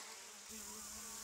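A few honeybees buzz faintly inside a nuc hive box while cleaning out leftover honey, a soft steady hum with a slight lift in pitch partway through.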